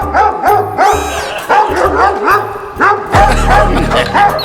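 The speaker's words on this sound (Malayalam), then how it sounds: "എന്താ ഒരു സൗണ്ട് പട്ടി പട്ടി" A dog barks repeatedly in short, loud yips and bow-wows, close by, with a whimpering quality between barks.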